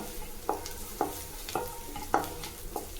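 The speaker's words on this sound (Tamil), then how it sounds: "நல்லா மொறு மொறுன்னு வறுத்தணும் நாங்கள் அந்த பூண்டு" Garlic fries crisp in hot oil while a spoon stirs it, with a soft continuous sizzle broken by about six sharp scraping strokes at a steady, unhurried rhythm, heard close up with no talking.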